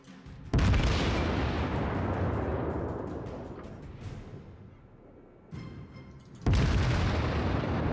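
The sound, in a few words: battleship naval gunfire in World of Warships video game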